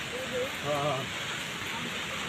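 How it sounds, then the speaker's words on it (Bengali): Rain pours steadily onto the hills beside a slippery waterfall in Malaysia, a constant broadband wash of falling water with a brief voice rising over it early on. "এই বৃষ্টি পাহাড়েতে পানি পড়তেছে আওয়াজ উনাইতেছে"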